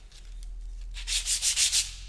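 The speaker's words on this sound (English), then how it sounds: "What we're going to do is just sand with the grain" Sandpaper of 80 grit rubs along the grain of a wooden spinning top, faint at first and then a series of about five close, rhythmic back-and-forth rasping strokes.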